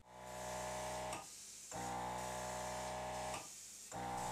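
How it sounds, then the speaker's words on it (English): An airbrush sprays metallic blue paint thinned for a model, a steady hissing with two short pauses between passes, fairly faint and with no one speaking. "mixed up some metallic blue paint and thinner, and started to apply it with my airbrush"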